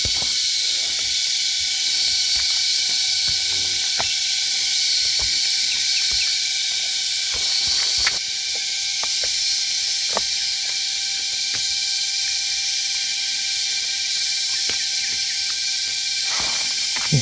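A constant high, shrill hiss of insects buzzing outdoors, steady throughout, with faint scattered clicks and ticks underneath.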